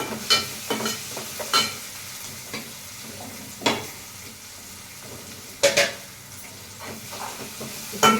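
Food sizzles and fries in a pan while being stirred, with repeated scraping strokes of a utensil rising over a steady hiss at close range.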